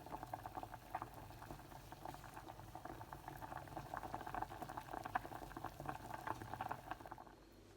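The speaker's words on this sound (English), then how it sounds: "That's going to take probably 10 minutes, 12 minutes to cook those potatoes out." Pan of potatoes boiling for a cottage pie topping, a quiet steady bubbling with soft irregular pops and patter throughout, no voices.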